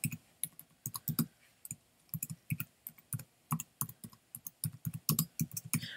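Rapid, irregular clicking of keys on a computer keyboard, close and fairly quiet, with short bursts and brief pauses between strokes.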